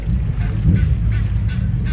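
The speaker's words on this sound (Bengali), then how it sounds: "কাস্তেলের পাশেই এই হাঁসগুলা" Swans honk beside Windsor Castle, with several close, nasal calls repeating over steady outdoor water ambience and no talking.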